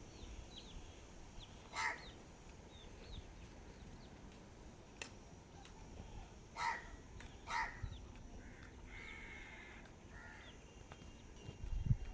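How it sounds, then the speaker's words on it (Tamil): A crow caws a few times at a moderate distance, short harsh calls spaced apart over a quiet outdoor background. "எதுக்கு கத்துது காக்கா"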